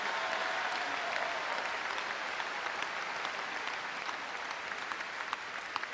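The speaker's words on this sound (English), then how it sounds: "let's have a round of applause for Santa Clara" Sustained applause from an arena crowd after a women's volleyball match, steady and dense clapping filling the whole stretch with no break.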